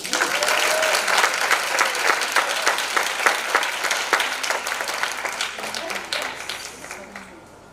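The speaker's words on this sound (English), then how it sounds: "Give them a round of applause." An audience gives a round of applause at a Mercy Manor gathering, dense steady clapping that starts loud and slowly thins and fades over several seconds, with a whistle and faint voices mixed in.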